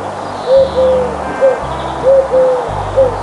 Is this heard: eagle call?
yes